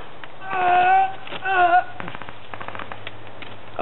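An ICS M3 grease gun airsoft rifle fires a quick string of light, faint popping shots after someone speaks briefly.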